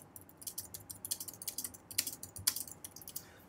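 A passphrase is entered on a computer keyboard, with a quick, quiet run of close key clicks and a few firmer taps, steady and unbroken, with no voices.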